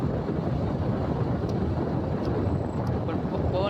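Cold wind blows hard and steadily at night, outdoors on the way to a river, as a continuous roaring rush buffeting the microphone, loud and close throughout.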